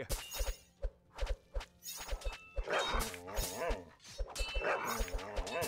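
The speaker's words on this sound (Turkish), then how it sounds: "İlk oyundaki köpekler var gene." Dogs bark in the tower-defense video game Kingdom Rush Frontiers, a run of short, punchy barks amid thuds and other game effects, fairly loud and busy, with no talk over them.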